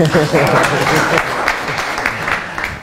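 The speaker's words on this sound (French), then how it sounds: "Est-ce qu'on va applaudir pour l'honnêteté?" Applause from an audience fills the clip, a dense steady patter of clapping with some voices mixed in, fairly loud throughout.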